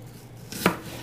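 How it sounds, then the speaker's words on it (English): A single crisp knife cut through an unpeeled apple being sliced thinly for a harvest apple cheesecake, one short sharp chop at close range against a quiet kitchen. "It says to slice them thinly"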